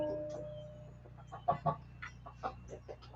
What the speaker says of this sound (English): This chicken is hell-bent on laying eggs on this porch.